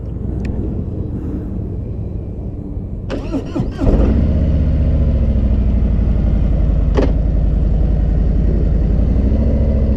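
Harley-Davidson Street Glide Special motorcycle with a Milwaukee-Eight (M8) V-twin engine: starter whine cranks for a moment, then the engine catches and settles into a loud, steady, deep lumpy idle close by.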